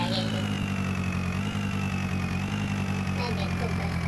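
Swaraj 963 tractor idling in an Indian tractor farming simulator game, a steady low engine drone with a faint rising whine above it, with a voice talking over it.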